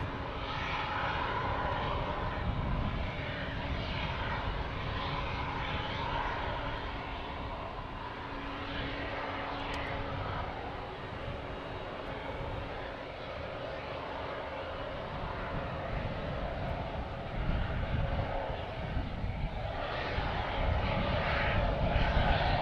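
Airliner flying near DFW International Airport, a steady broad engine roar holding for over twenty seconds at moderate distance, swelling slightly near the end.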